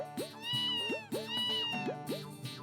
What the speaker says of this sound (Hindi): सोनू, खबरदार जो आइंदा मेरे मोबाइल में बिल्ली की आवाज रखी तो